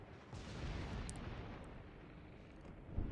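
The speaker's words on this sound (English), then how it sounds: "we're getting gunfire, or receiving gunfire." Naval gunfire in World of Warships: Legends, a faint, low rumbling of distant shell fire and booms that rolls on steadily, with one sharper thud near the end.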